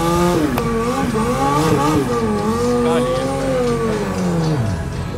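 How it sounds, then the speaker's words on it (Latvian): Drag race cars and motorcycles roaring down the strip, with a loud engine rising through the gears, then a quick shift and a fading run as the vehicle pulls away. "Bet tagad mēs varam paskatīties atlikušo klipu, kā izskatās drag race un kādas mašīnas vai motocikli šeit brauc."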